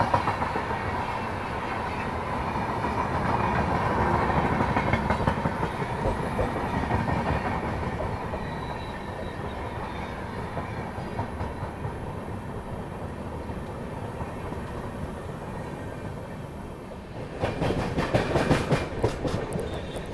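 The Malwa Express pulls into Shujalpur station with a steady, fairly loud rolling rumble and rhythmic wheel clatter, then a burst of brighter clanking and rattling carriages toward the end.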